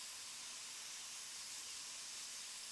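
Spray painting in a video game, coloring a set of rails: a steady, loud continuous hiss of spray runs unbroken throughout, with no talking.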